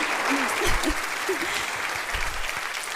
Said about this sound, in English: Let's give Morgan another round of applause.